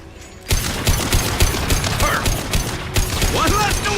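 Rapid bursts of gunfire from the Mass Effect video game, dense repeated shots after a brief quiet start, with some short tonal effects mixed in.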